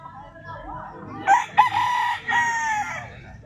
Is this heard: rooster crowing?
yes